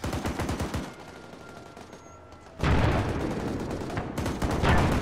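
Bursts of rapid automatic gunfire in a military video game, loud rattling volleys at the start, a quieter lull, then sustained heavy firing resuming, with sporadic fire throughout.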